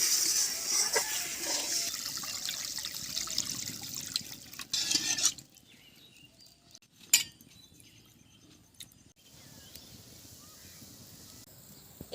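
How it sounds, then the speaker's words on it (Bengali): Water is poured into fried spice paste of ginger, turmeric, chili powder and salt for a village-style jackfruit curry, a hissing rush that stops after a few seconds, followed by quiet stirring and a few clinks of utensils. "এখন জল দিয়ে দেবো।"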